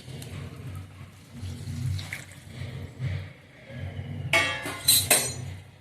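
Water is poured from a plate into a pot of cooking mutton, giving a soft, uneven splashing and trickling, with a brief brighter clink and splash near the end; no voices.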